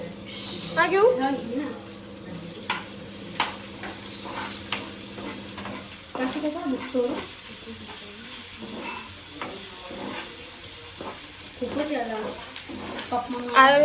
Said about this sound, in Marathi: कांदा फ्राय करून घेऊ आपण.